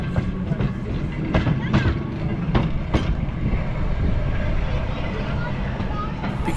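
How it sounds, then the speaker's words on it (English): A tram running on a single-line track at Beamish Living Museum, with a steady rumble and several sharp rail clicks early on, heard fairly close, with faint voices in the background. "Because the trams run on a single line, the Pockley Halt features one of the site's passing loops for them to pass each other."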